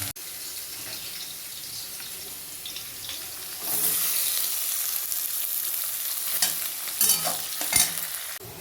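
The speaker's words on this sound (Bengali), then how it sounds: "তেল দিলাম আমি একে একে আলু পেঁয়াজ ভেজে নিয়েছি" Potatoes and onions frying in hot oil in a wok for a spiced fish bhuna, a steady close sizzle with a louder burst midway and occasional scraping stirs, no talking.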